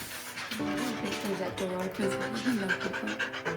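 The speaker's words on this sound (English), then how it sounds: "She's pacing around, she's panting, she's wanting to drink a lot" A dog pants steadily and rhythmically close by, quick breaths repeating throughout with faint rustling underneath.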